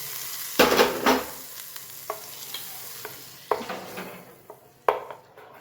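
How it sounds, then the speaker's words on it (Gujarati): Hot tempering of curry leaves and asafoetida poured into coconut chutney and stirred: a loud burst of sizzling at first, then several short clinks and scrapes of a spoon against the bowl, close by with no talking. "આ વઘાર ચટણીમાં આપણે નાખી દઈશું."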